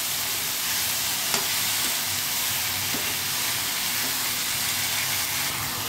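Ram phali vegetable and potatoes frying in spices in a pan give a steady, close, hissing sizzle throughout, with a few faint scrapes and knocks from stirring and no talking.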